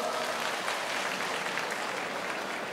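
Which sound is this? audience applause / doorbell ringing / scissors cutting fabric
audience applause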